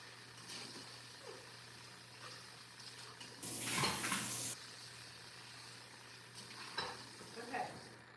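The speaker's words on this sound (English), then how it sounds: "I am washing my dishes." Dishes being washed in a home kitchen: a short rush of running tap water with soft clinks and splashes scattered before and after, quiet and close, with no talking.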